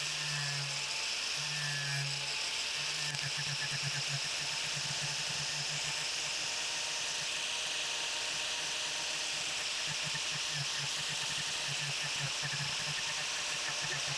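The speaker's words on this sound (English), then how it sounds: "Then I went to work with a power carver on my angle grinder, working to the line on the top" A power carver fitted to an angle grinder carves wood for a Japanese-style bench, a steady high whining grind running throughout at moderate distance, with a low motor hum that stutters briefly at the start.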